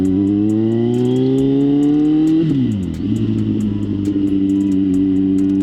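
A Kawasaki Z900 with its airbox removed and an aftermarket Leo Vince exhaust rises in pitch as it pulls away, shifts with a sharp drop, then settles into a rumbling run with faint clicking; loud and close, no talk.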